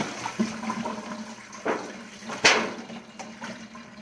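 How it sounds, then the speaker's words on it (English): Water sloshes and splashes briefly as a flan pan is lifted out of a water bath, with a couple of sharper splashes standing out against quiet kitchen background sound. "get the pan out of the water."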